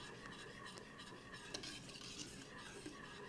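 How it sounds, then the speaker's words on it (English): Dry mustard, nutmeg and salt being whisked into a thickening Parmesan sauce in a pan, a steady soft scraping and stirring that runs throughout with faint clinks of the whisk against metal. "I'm adding some dry mustard, nutmeg, and salt. So I just want to whisk all of this in"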